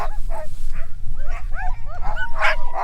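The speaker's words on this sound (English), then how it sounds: "The dogs are so energetic and eager to get a move on all the time." Sled dogs in Svalbard bark and yip eagerly in a rapid overlapping chorus of short yelps and whines, close and loud throughout, with a voice briefly audible among them.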